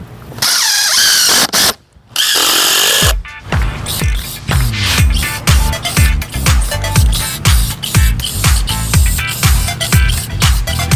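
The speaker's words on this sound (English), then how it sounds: "you can just drive screws in through the side right there to attach it" A power drill drives exterior screws to fix a wood piece to a mailbox post, starting with a long whine and then breaking into a rapid series of loud, rhythmic ratcheting pulses.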